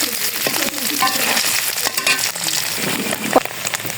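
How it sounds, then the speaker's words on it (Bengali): Paneer frying in hot oil in a pan, a steady broadband sizzle with occasional clinks of a utensil stirring, close and continuous with no talk. "পনিরটা ভেজে নেব।"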